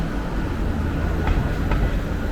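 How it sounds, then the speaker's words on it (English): Toronto subway train rumbling steadily on the rails, with continuous low wheel and car noise and a couple of faint rattles, no talk. "We're going to head back onto the subway train"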